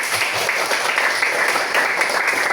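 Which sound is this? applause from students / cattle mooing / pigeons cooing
applause from students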